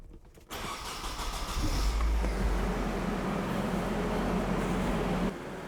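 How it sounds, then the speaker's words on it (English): Nissan S14 240SX engine cranks and fires after an oil change, then settles into a steady, moderately quiet idle. "I'm gonna go ahead and start the engine."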